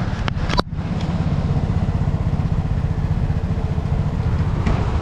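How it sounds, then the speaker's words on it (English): A scooter engine idles just after start-up, a steady, close, even putter that holds for several seconds after a brief click and knock at the start. "is that engine just running like it normally does?"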